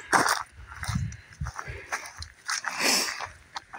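A dog makes short, close yelps and whimpering sounds in bursts, mixed with footsteps and a man's speech nearby.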